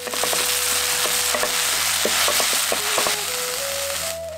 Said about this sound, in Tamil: 2 தேக்கரண்டி இஞ்சி பூண்டு விழுதையும் சேர்த்து நல்லா வதக்கிடுவோம்.